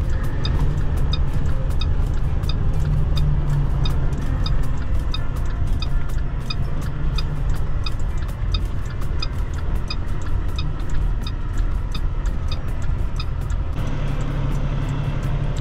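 A truck drives through White Sands National Park in New Mexico, its engine a steady loud low rumble with a continuous rapid ticking, heard alone from inside the cab.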